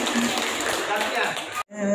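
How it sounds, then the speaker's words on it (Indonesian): A group in a teacher training session claps in a dense, continuous patter for about a second and a half, then stops abruptly. A brief tonal sound follows the sudden silence. "Tepuk tangan."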